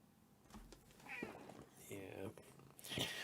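A house cat meows repeatedly in short, rising calls at close range, mixed in with a person talking over the cries.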